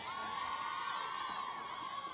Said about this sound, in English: They are cheering for Mike Vigorita on the field right now.